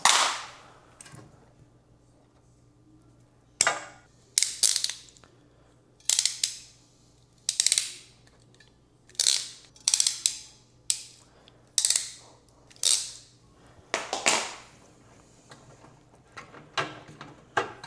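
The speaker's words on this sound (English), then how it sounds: "So I'm gonna cut them and put new ends on them" Burned wire ends are snipped off and new terminals crimped on during a GE microwave repair. Sharp, close clicks and snips come in irregular bursts with quiet gaps between them.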